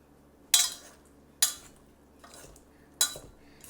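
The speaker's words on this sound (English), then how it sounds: "I'll just dump it on about 3/4 of it and give it a quick stir" Potato salad with eggs, bacon and a creamy mayo and vinegar dressing gets a quick stir, three sharp utensil scrapes against the bowl spaced about a second apart, near and moderately loud with quiet between.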